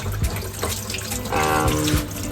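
Cold tap water runs steadily into a sink as a butterflied tilapia fish is rinsed, a close, continuous splashing stream with brief shifts in flow and no talking.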